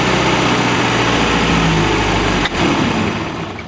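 A cold-natured boat engine fitted with a rebuilt 2-barrel MerCarb carburetor idles in a steady, close, continuous drone, with a brief dip in level partway through and no talking.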